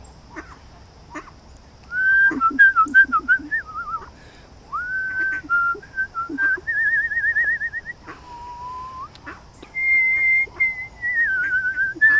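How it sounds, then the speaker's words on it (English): Cardinal song near bird feeding benches in West Newton, Pennsylvania: clear whistled phrases and slurred trills repeating in bursts over several seconds, with faint background sounds between phrases. "I hear the cardinal. He's a coming."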